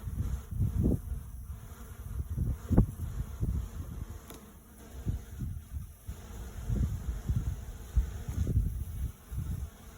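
Bees swarm in an attic, a dense low buzzing drone that swells and fades in uneven pulses throughout, close and fairly loud with no voices.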